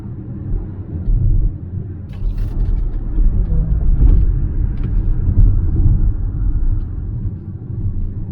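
2022 Volvo XC40 Recharge electric car driving through a canyon in dynamic mode, heard from inside as a steady loud road and cabin rumble with faint clicks and no voices.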